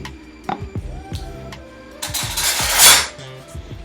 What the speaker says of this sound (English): Next, I'm going to scoop out some of my coconut oil.